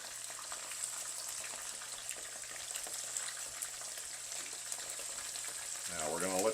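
Beltfish pieces pan frying in batches, a steady close sizzle with crackling oil that holds evenly, then a brief burst of louder spattering near the end.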